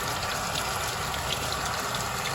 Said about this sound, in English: I'm rinsing it off.